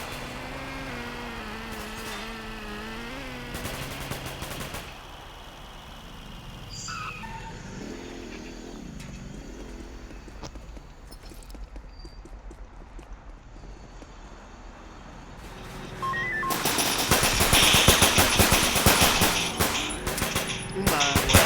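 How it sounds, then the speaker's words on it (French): Bursts of machine-gun fire crackle in rapid runs, first faint and distant, then growing loud and dense toward the end, over a rumbling background with little speech. "il y a des tirs"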